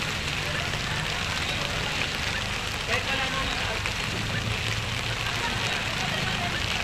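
Steady hiss of rain falling on a surface during a Santacruzan procession in Santa Maria, Bulacan, constant and fairly loud throughout, with faint voices in the background.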